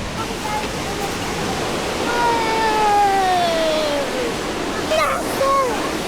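Steady broadband rush of YS Falls waterfall in Jamaica fills the scene from close by, with voices talking and exclaiming over the constant roar.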